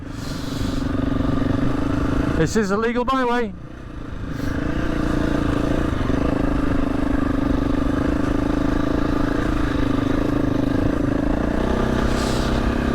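A Husqvarna 350 motorcycle engine idles and putters steadily at about 13 mph on a byway in the Yorkshire Dales, with a brief rattling clatter early on and someone speaking briefly over it.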